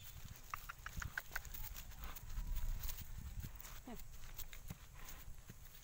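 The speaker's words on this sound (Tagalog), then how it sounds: "Hinihingal na yung kabayo" Hooves of a small horse carrying two riders clip-clop in an uneven walking rhythm over a steady outdoor background, with chatter and faint bird calls around them.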